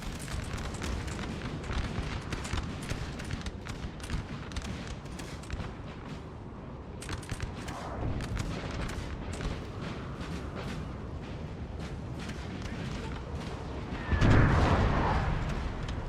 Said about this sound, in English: The artillery focusing on this landwehr may actually break them